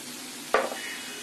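Prawn and vegetable fried rice with scrambled egg and spring onion is stirred in a hot pan: a single quick scrape-and-sizzle burst over a faint background hiss, no voices.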